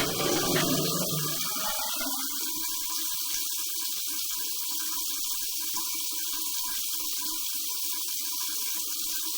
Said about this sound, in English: All I'm doing is running the hand sink in the room, trying to get that paper to move.